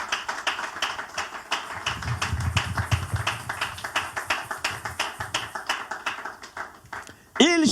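A church congregation applauds at a sermon, the clapping falling into a steady, fast rhythmic beat that continues for several seconds, while voices are heard among the claps.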